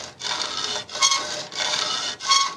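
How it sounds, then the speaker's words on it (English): A hacksaw cuts down a curtain rail for a Volkswagen Caddy van cab curtain in four close, even strokes, each a bright rasping push or pull separated by brief gaps. "the best way to do this is to use a hacksaw"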